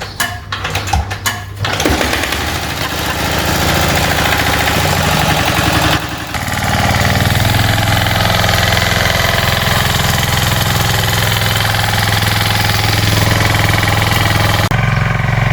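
A diesel engine on a raisin farm on Zakynthos, rope-started after a few rough pulls, then settling into a loud, steady, close chugging run that holds on without pause.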